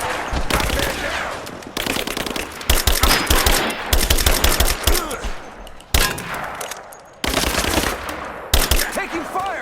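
Rise of the Tomb Raider gunfire: loud, close automatic bursts with rapid rattling shots, broken by short gaps and resuming repeatedly, with faint voices underneath.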